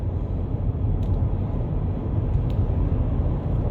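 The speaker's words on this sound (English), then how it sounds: "This is the interior noise of the stock exhaust." A 2023 Ford F-150 with stock exhaust is heard from the cabin with windows up, a steady low muffled drone and road rumble, continuous and moderately loud with no talk.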